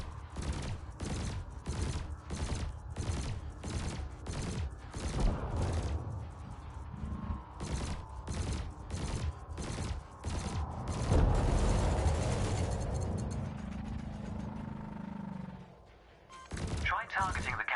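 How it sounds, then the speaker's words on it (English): Rapid cannon and laser fire in the space game Elite Dangerous, a fast rhythmic string of sharp shots, then a sustained buzzing burst and humming tone. More shots follow after a short lull. A voice speaks over part of it. "Your cannon will automatically reload until the ammunition supply runs out. Meanwhile, your laser will fire until the capacitor is depleted"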